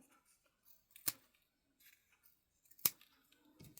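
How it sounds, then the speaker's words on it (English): Scissors snip small paper embellishment pieces for scrapbook crafting, a few sharp isolated cuts spaced a couple of seconds apart, close and clear in an otherwise quiet room. "I'm just going to cut them off here because I've already got this one cut up"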